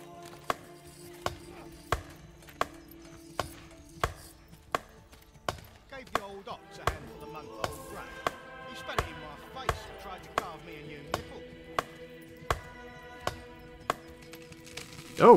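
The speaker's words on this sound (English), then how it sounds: "And watch him cut down a tree." In the Manor Lords medieval city-builder game, a villager chops down a tree with an axe: a steady series of sharp, evenly spaced thwacks about every 0.7 seconds, alongside soft game music and a brief thud at the end.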